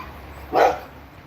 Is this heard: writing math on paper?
no